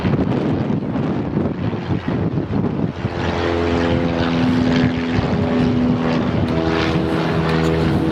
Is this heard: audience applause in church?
no